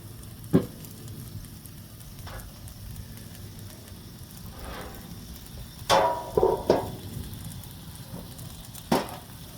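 Sausages cook on a plancha griddle with a splash of water added, giving a steady low sizzle and a few louder spitting bursts near the middle and end. No one speaks.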